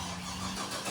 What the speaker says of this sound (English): I'm gonna start the car up.